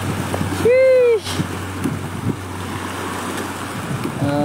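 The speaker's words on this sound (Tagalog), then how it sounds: "Maya, malakas ang alon." Strong waves wash and churn around a small fishing boat out on the water, a steady rushing roar with wind buffeting the microphone, and a brief tonal whistle or call cutting through early on.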